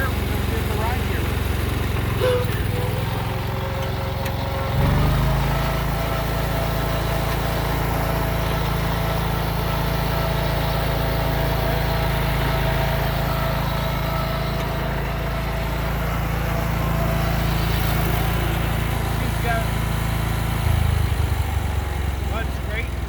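Cub Cadet 1000 garden tractor engine running steadily in second gear while riding, a loud continuous low drone that holds through most of the stretch, with voices talking over it.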